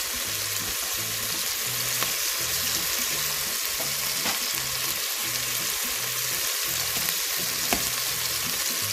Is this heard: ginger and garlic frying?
yes